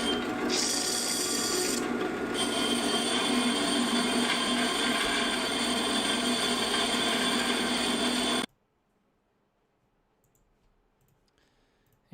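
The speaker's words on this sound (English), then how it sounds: "They would have just like time-lapsed that whole bandsaw cut." A bandsaw cuts wood at a 45-degree angle with a steady loud whirring drone and rapid clicking for about eight seconds, then cuts off abruptly into near silence.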